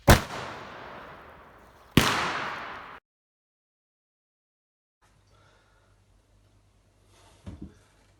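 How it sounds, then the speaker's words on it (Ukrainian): Two sharp, loud bangs about two seconds apart from a training model of a tube grenade launcher, each followed by a trailing echo, then near silence with faint low hum and a few distant clicks. "Постріл!"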